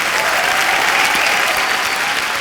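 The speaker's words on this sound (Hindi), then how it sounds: "जोरदार तालियां एक बार।" A television comedy studio audience breaks into loud, sustained applause, a dense unbroken wash of clapping from many hands with no speech on top.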